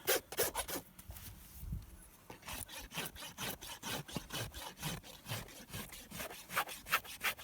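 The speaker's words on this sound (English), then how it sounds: "rounding up the edges with my rasp. Keeps it from chipping as fast." Farrier's rasp rounding off the edges of a horse's hoof to prevent chipping: a steady run of close, loud scraping strokes with a brief pause near the start, then a regular back-and-forth rhythm, with no talking.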